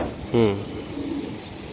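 A racing pigeon gives a single short, close coo with a bubbly, rolling tone, followed by quieter low murmuring in a pigeon loft.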